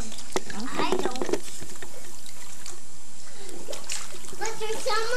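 A child splashing while swimming in an outdoor pool: bursts of splashing and trickling water, close by, mixed with a voice and other talk.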